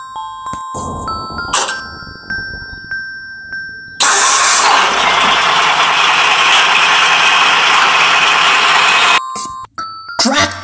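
Tipper truck engine starting up and running steadily for about five seconds with a loud, broad rumble, then cutting off, with brief clunks and rattles before and after.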